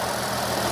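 A Cadillac SRX4 engine with a hesitation and power-loss fault runs steadily with a dense, even roar, loud and close, without any clear rise in pitch and without voices.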